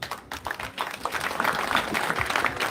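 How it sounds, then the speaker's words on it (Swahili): Applause at a birthday gathering in a children's home: a crowd claps steadily and densely for the whole stretch, building slightly louder partway through. "Pigieni rafiki yangu makofi"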